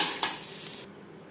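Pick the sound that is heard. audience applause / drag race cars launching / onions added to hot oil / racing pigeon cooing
onions added to hot oil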